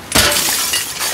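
Glass window smashing in The Last of Us Part II, a loud sudden shatter followed by a spray of tinkling shards that fades over about a second, heard alone without talk.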